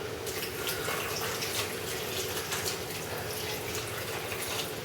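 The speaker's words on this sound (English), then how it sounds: "I'm now going to add 800 millilitres of cold water." Cold water is poured steadily into a heavy pan of roughly chopped rose hips, making a constant splashing rush with no pauses from start to finish.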